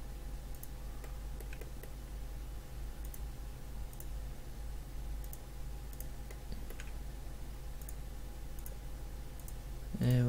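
Mouse clicks in 3ds Max while modelling a barrel, faint scattered taps over a steady background hum, with a sharper burst near the end.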